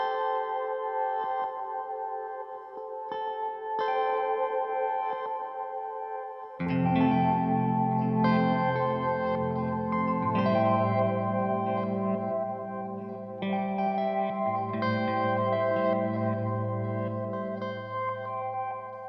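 Panorama Guitars cinematic guitar preset rings out in sustained, shimmering chords, with echoes drifting in and out and a deeper layer swelling in partway through.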